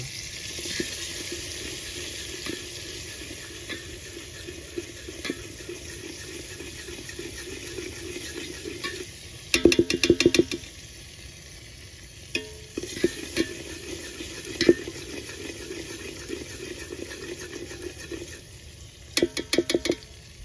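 Spicy bhungla potato masala stirred in a pan gives a soft, continuous sizzle with light scraping, joined by a few brief bursts of louder clattering strokes against the pan.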